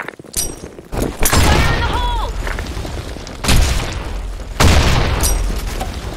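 Grenade blasts in the Blackshot shooter game: deep booms with rumbling tails, the first big one followed by two more heavy thuds, set against continuous gunfire and battle noise.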